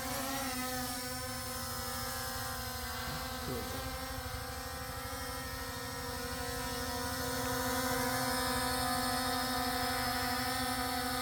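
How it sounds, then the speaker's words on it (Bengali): A W10 brushless-motor drone with a 4K dual camera hovers in place. It gives off a continuous, steady, high-pitched buzzing whine that holds nearly constant and swells slightly toward the end, with no talk. "আমরা ডাব্লু টেন এই ড্রোন ক্যামেরাটি এখন আপনাদের মাঝে উড়াবো"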